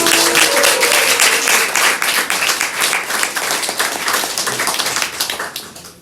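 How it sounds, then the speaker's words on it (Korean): A crowd at a book launch event applauds steadily for several seconds, dense overlapping claps filling the room before tapering off at the end. "이 가족들을 위해서 우리 박수 한번 해주세요"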